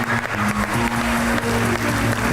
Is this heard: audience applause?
yes